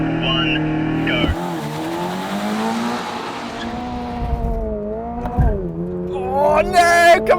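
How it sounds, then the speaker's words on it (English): Subaru BRZ and Mazda MX-5 launching side by side at a drag strip, engines roaring loud and close with wheelspin and tyre squeal, revs climbing through gear changes while an excited driver talks over the noise. "Too much wheel spin, Alex!"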